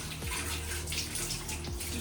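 Running water splashes continuously as a child plays in it, a steady close rush with small splashy bursts throughout.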